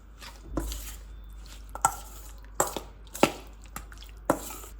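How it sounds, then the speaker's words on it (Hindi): Chicken pieces being mixed in a bowl with marinade for Muradabadi chicken biryani, heard as a series of sharp, separate clacks and wet taps at irregular intervals, close by, with quiet gaps between. "तो अब हम इसे अच्छी तरीके से मिक्स करेंगे।"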